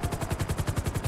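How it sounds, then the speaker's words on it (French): Rapid automatic police gunfire from a GTA LSPDFR chase, a steady burst of about a dozen evenly spaced loud shots with no pauses. "il y a des coups de feu tirés de la part des forces de l'ordre"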